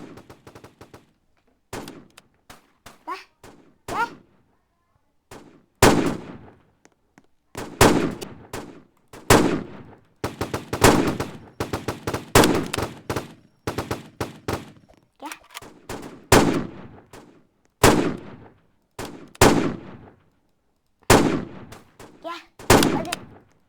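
Roblox video game gunfire crackles in repeated bursts of sharp, loud shots with short gaps between, some rapid volleys like automatic fire, steady throughout the long stretch.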